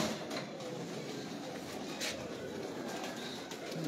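Antique pigeons cooing softly at a loft, a low steady murmur of birds over a constant background hiss, with no one talking.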